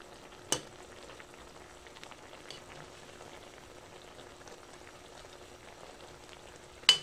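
Teriyaki sauce simmering and reducing in a pan gives a faint, steady crackling fizz with tiny scattered pops, plus two sharp clicks at the start and end.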